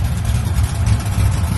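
An Oldsmobile Cutlass sits idling, its exhaust giving a steady, loud, low rumble with a slight lope, close by and with no talking.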